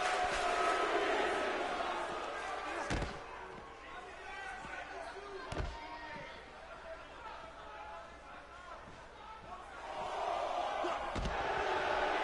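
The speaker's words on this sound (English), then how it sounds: "Crowd getting a "This is awesome" chant." A wrestling crowd at a tag team showcase chants 'This is awesome' in rhythmic waves that swell loudest at the start and near the end, with commentary talking over it.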